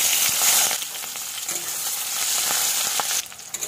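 Chopped onion and green chili sizzle in hot oil with bay leaf and cloves for a Bengali fish-head moong dal, a loud, continuous crackle broken by scraping stirs and spatter.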